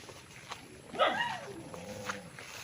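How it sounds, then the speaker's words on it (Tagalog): A dog on a farm lot in Magdalena, Laguna gives one short bark with a faint whine, fairly distant, amid quiet outdoor ambience. "May aso."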